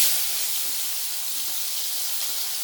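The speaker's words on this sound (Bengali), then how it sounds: "মাছটা ভালো করে ভেজে নেব।" A fish head fries in oil in a wok, giving a brief, steady hiss of close sizzling with no voices.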